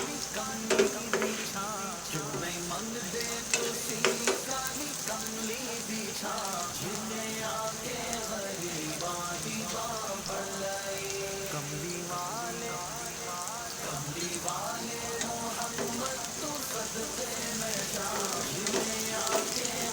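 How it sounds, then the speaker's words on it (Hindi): Green chilies sizzle and fry in a hot pan with a steady crackling hiss, while a utensil stirs and scrapes intermittently throughout. "थोड़ा सा मिर्ची फ्राई हो जाए फिर हम इसमें चिकन ऐड करेंगे।"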